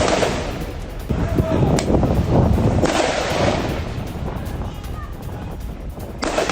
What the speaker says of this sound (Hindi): मशीन गन फायरिंग की है।